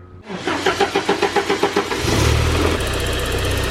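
Porsche 944 S2 from the 1980s cranks over with a rapid rhythmic starter chug, then fires and settles into a steady, smooth idle, heard up close with no talking.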